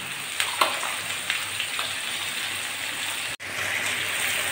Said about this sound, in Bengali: এখন আমি এই যে একটুখানি জিরে, লঙ্কা, আদা, রসুন, পেঁয়াজ বাটাটা দিয়ে দিচ্ছি।